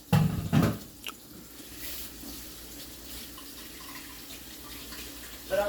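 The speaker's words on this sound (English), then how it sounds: "let me wash my hands off real fast" A kitchen tap runs while hands are washed after cooking. Water gushes loudly at first, then settles into a softer steady stream, with a few splashes at the sink.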